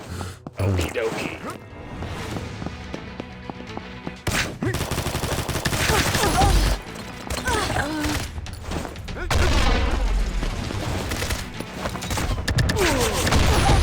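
Combat Master video game battle rages with rapid gunfire and a heavy bomb blast, dense bursts of shooting and booms overlapping throughout, with occasional voices.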